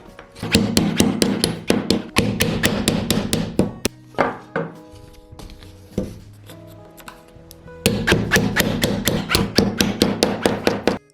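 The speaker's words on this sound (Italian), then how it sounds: "li spingo dentro con il martello, martellando prima da un lato e poi dall'altro per tutti e 4 gli angoli" Sharp hammer blows drive wooden wedges into the corners of a canvas stretcher frame, falling in fast bursts of loud, close taps with a quieter scraping pause in the middle before a final rapid run of strikes.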